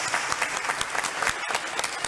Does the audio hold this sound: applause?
yes